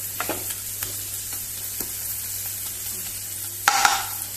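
Close, steady sizzling of tomatoes being pressed and fried in a hot pan for Goan butter chicken, with a few soft utensil taps and presses, then a louder scrape and clatter near the end.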